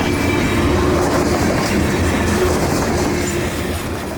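A CSX freight train passes close by on the Chattanooga Subdivision, a loud, continuous rail rumble with rhythmic clickety-clack of wheels over the track joints, fading slightly toward the end.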